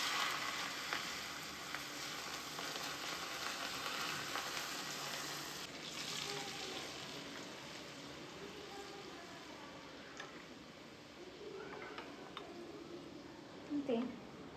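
Noodle ingredients tip into very hot oil for Korean noodles, giving a steady broad sizzle and frying hiss that runs throughout, with faint stirring and pan clinks near the end.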